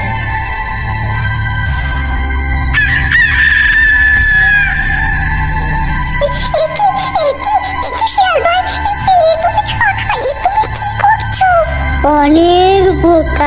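A cartoon hen clucks and crows in loud, bright, repeated calls over a busy music and sound-effects track, with the calls coming thicker toward the end.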